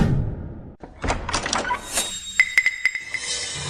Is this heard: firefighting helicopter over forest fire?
no